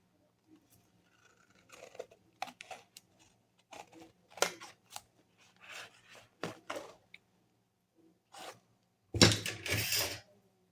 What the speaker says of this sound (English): use the cardstock, place it and cut around.